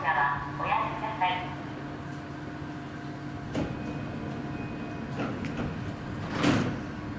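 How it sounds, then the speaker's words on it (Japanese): Train doors sliding shut at Shin-Matsudo station on the JR Joban Line, a brief rumbling slide and thud heard over station ambience, following a spoken platform announcement. "扉が閉まります。"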